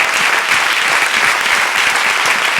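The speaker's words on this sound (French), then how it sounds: "Acclamez seulement les mains. Tapez seulement les mains." A church congregation claps hands together in a dense, steady roar of applause at a Sunday service, continuous and loud throughout with no voices standing out.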